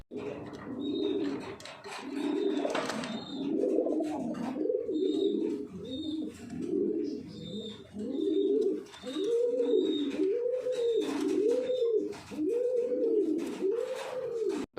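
Racing homing pigeons, an infertile male among them, coo in a steady series of rolling, near calls that repeat every second or so, with faint chirps and rustling behind and no talk.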